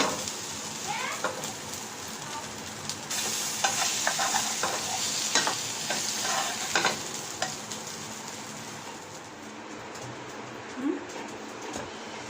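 Paratha frying in a pan for a porota sandwich, with a steady close sizzle under repeated scraping and stirring clicks as the flatbread is flipped over, the frying noise continuing throughout.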